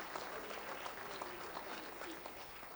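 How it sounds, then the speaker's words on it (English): A large audience at a talk on racism's psychological toll claps in sustained, dense applause that holds steady throughout, with a few voices mixed into the crowd. "give yourselves a big round of applause for being here"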